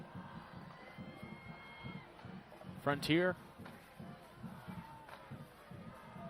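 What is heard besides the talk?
football crowd cheering at a high school game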